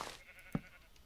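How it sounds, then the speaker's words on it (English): A video-game sheep gives a single short bleat in a farm pen-building scene, brief and fairly quiet against a soft background. "Oh, sheep, no, sheep, come back."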